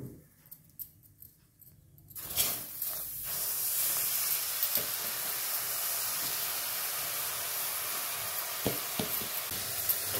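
Sesame seeds sizzling in a pan for a Telangana Sankranti sesame-seed dish, starting with a few quiet crackles and then rising into a loud, steady hiss of frying with occasional sharper pops.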